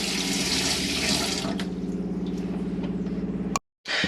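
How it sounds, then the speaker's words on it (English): Water runs steadily from the hot tap into a motorhome sink, a close, continuous splashing that grows gentler partway through before cutting off abruptly. "that water is getting up the temperature now on the hot side of the tap and producing nice hot water"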